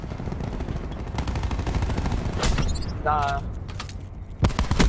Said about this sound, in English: I forgot I switched over to the LMG